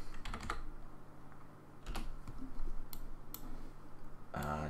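Keystrokes on a computer keyboard come in short irregular bursts of clicks, close and fairly quiet over a low background hum, with a louder clatter of keys near the end.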